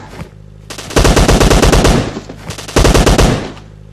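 Two loud bursts of rapid automatic gunfire, each lasting about a second, separated by quieter gaps with faint background tones.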